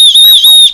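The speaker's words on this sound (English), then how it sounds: "a sternum strap like that with the obligatory Osprey danger whistle" Shrill, steady whistle blast from the small danger whistle on the sternum strap of an Osprey Hikelite 26 hiking backpack, one sustained loud tone lasting under a second, close and alone.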